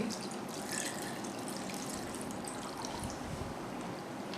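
Tamarind water for a tangy chutney pours in a steady, continuous trickle, a soft, even liquid hiss that carries on unbroken for several seconds with no voices.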